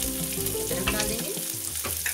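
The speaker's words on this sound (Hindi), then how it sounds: "और इसे हम भून लेंगे। 1 मिनट तक इसे हम भून लेंगे" Onion, garlic and ginger go into hot oil with cumin for a stuffed parwal dish, giving a loud, steady sizzle with bubbling and crackling that dips briefly and then returns, heard close and without talk.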